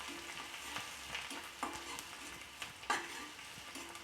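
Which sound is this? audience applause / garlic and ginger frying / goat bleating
garlic and ginger frying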